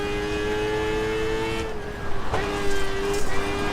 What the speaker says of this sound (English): You can hear the motors.